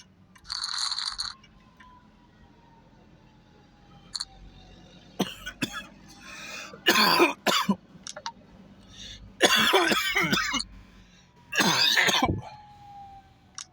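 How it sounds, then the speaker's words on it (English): Several harsh coughing fits and throat clearing, close and loud, with quiet pauses and a faint distant whine in the background. "after coughing my lungs out"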